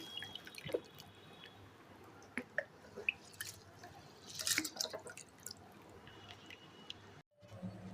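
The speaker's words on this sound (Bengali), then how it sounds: "একদম জল পড়ছে না, পিট পিট পিট করছে" Faint, sparse drips from a broken kitchen tap, a few soft isolated plinks scattered over a quiet background hiss, with a brief dropout near the end.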